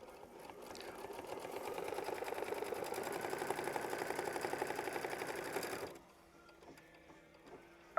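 An embroidery machine stitches a flower bouquet quilt block with a fast, steady, close mechanical chatter that runs for about six seconds, then stops abruptly, leaving quiet room noise.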